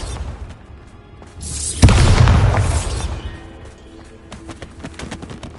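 A Bombarda blasting spell in Hogwarts Legacy goes off as a sudden loud boom with a crackling burst that swells and slowly fades over a couple of seconds, above low game ambience.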